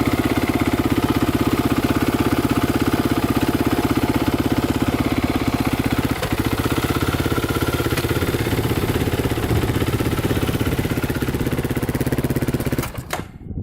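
A Polaris Predator 500cc quad idles at a standstill with a loud, steady, close engine drone and rattle that cuts out abruptly at the very end.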